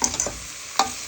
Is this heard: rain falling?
no